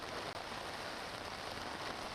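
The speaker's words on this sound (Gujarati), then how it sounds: "હાલમાં સુરતમાં ધોધમાર વરસાદ શરૂ થયો છે" Heavy rain pours steadily in Surat, a dense unbroken hiss of drops hitting surfaces at close range, loud and constant with no voices.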